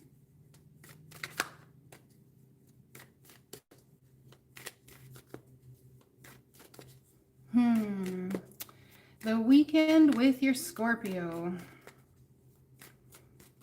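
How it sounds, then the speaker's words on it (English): Tarot cards are shuffled in light, scattered riffling taps and flicks, close by and fairly faint, with a person speaking over the middle stretch. "I'm like shuffling cards and nothing's flying out."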